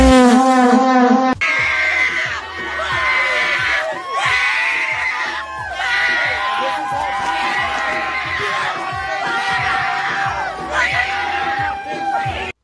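Crowd screaming and yelling almost without pause, loud and close, shrill high cries layered over a dense background of shouting voices.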